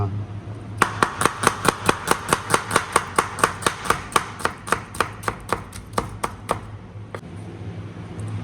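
A knife chops food on a cutting board while Kerala-style beef fry is being cooked: a rapid, steady run of about two dozen sharp, close strikes that slows and thins toward the end.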